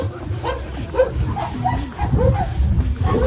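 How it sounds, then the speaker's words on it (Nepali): Dogs on a street in Romania yip and bark in short, repeated bursts with some whimpering, fairly loud and close over a steady outdoor background. "कुकुर त भुग्ने नै हो"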